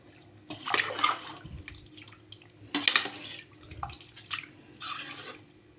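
Measured water poured into a cooking pot for chicken biryani, splashing and trickling in several separate bursts with short pauses between them, close and clear.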